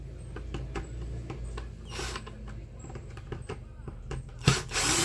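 Screws being removed from an Arno clothes iron, with a series of short close scraping and clicking tool sounds plus a few sharper knocks and rattles near the end.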